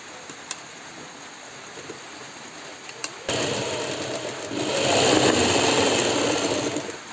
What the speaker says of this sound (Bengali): এদিক দিয়ে সেলাই দিয়ে নিয়ে আসবো আগে